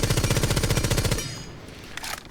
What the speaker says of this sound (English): So if I'm trying to learn the recoil of a gun, what I'm going to do is I'm going to let it shoot up.